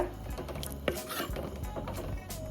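A lid goes onto a pot of drained rice for veg pulao in a home kitchen, giving a few light metallic clinks and clatters among soft utensil scrapes and stirring noises, with no voices.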